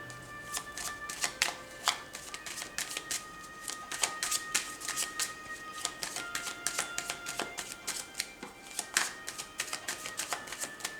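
Tarot cards are shuffled and riffled close by in a quiet room, a rapid, uneven patter of crisp flicks and taps that continues for several seconds without talk.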